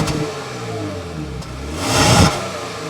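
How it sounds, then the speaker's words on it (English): High-performance police car engine revving through its exhaust, a steady close rumble that swells into a louder rev near the end with no talk over it. "As soon as you start it up, the noise that the engine makes coming from the exhaust"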